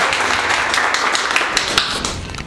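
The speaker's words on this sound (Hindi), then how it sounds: "जोरदार ताली" An audience at a mobile hardware training institute claps enthusiastically, dense rapid hand claps forming loud, sustained applause with scattered sharper individual claps.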